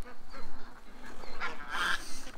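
Ducks being shut in for the night quack and honk in a few nasal, uneven calls close by, bunched together in short bursts, with no talking.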